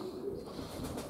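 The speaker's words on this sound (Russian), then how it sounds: "И голубь." A pigeon coos outdoors near a house, a soft, low, rolling call heard at a moderate distance against faint background noise, with no one speaking.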